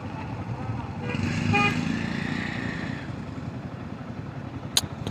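A late-night traffic jam at the airport in Bangladesh: a steady drone of idling cars and motorcycles, with a long horn toot near the start and a brief sharp honk near the end.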